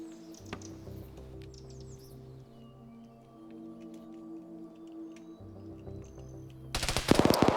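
Gunfire in a video game battle: faint distant shots over a steady droning hum, then a loud close burst of rapid machine-gun fire near the end, no voices.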